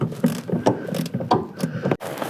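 A ratchet tightens 12 mm bolts on the clutch hydraulics of a Honda Element or CR-V, making quick, close, rhythmic clicking strokes that end in a sharp final knock.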